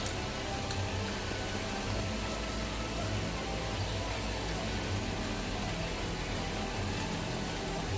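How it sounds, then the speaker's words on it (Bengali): Chicken pieces frying in hot oil for restaurant-style lemon chicken, a dense continuous sizzle and crackle like steady rain, close and even throughout, with faint background noise. "দেন আমরা চিকেনগুলো ফ্রাই করতেছি অয়েলের মধ্যে।"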